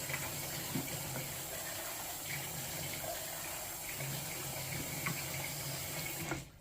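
Water runs steadily from a tap while a wooden hat block is wetted under it, a continuous close rush and splash with small shifts in the stream, then a cutoff at the very end.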